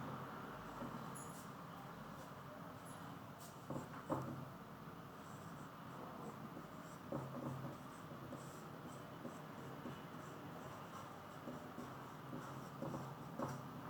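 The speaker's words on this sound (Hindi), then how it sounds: "थोड़ा ऊपर लिखते हैं" Faint scratchy strokes of writing on a board in a classroom, soft irregular scrapes and taps spread over a steady background hum, with no talk.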